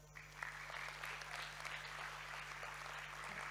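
Children clap together at a Thai science show, a steady crowd of applause running the whole time with a low mains hum beneath it.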